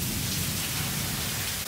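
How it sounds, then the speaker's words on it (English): Heavy hurricane rain pours steadily in Miami amid flash flooding, a dense close hiss with a low rumbling thunder undertone running throughout. "Heavy rain with lightning."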